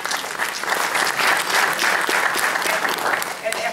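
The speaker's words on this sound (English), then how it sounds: "And hold your applause, please, until I finish" Sustained audience applause fills a book signing event for a former New York mayor, a dense, steady wash of many hands clapping together at close range without a break.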